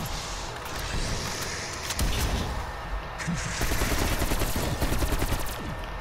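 Rapid automatic gunfire blasting at zombies in Call of Duty Cold War Outbreak mode, loud sustained bursts of shots rattling close up with almost no pauses.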